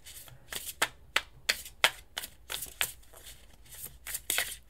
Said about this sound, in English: Since these cards are so slippery.